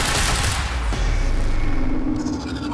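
Dense, loud gunfire fills a battle in the video game Quantum Break, sustained bursts of shots and booms blending into a near-continuous roar for the whole stretch, with no talking.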